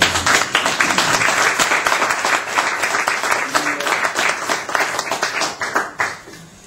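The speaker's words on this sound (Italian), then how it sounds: "Ringrazio per l'applauso" An audience at a public debate breaks into steady applause, many hands clapping in a dense, even patter for several seconds before it thins out and fades near the end.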